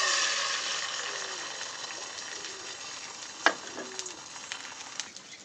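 Soft, steady sizzle of an egg frying in a pan, with a few light clicks and scrapes near the end; no voices.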